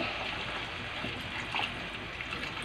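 Water trickles steadily into a cooking pot of simmering ingredients, a soft continuous hiss and splash at moderate distance with no talk.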